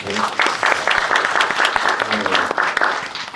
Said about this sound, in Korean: 새로 오신 직원분들에게도 박수 한번 부탁드리겠습니다